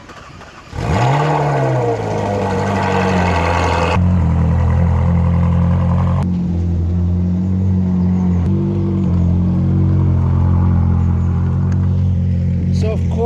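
A Ferrari's engine starts up and revs before settling into a loud, steady droning run with shifting tones as the car is driven onto a transporter.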